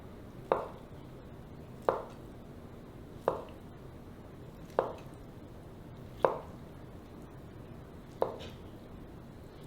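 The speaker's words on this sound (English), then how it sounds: "then I'm going to flip them around and slice them into cubes" A knife cuts through a block of cheddar cheese curd, making soft, evenly spaced wet chops about every one and a half seconds. Each stroke lands close and quiet with a brief squishy tail, and there is no talking.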